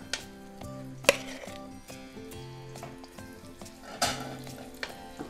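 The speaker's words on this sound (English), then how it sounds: "they're not going to take long to fry up" Lightly battered shrimp fry in hot oil with a steady soft crackle and sizzle, punctuated by a few louder pops and clinks as pieces go in, over a faint tonal background, no speech.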